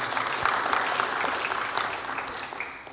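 A church congregation claps together in steady, dense applause that fills the room and fades slightly toward the end.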